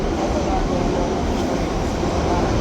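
Steady low rumble of a New York City subway train in motion, a continuous loud drone with rattling undertones filling the car, with some voices faintly mixed in.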